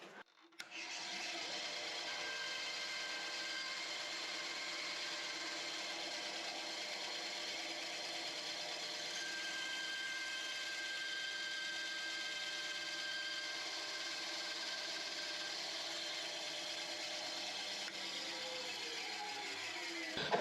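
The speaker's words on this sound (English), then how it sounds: "bandsaw, and we're going to cut in just about to where this gets skinny" A bandsaw cuts steadily through a piece of red cedar wood for a ring, a continuous close rasping whine that holds level for the whole stretch, starting and stopping abruptly at the ends.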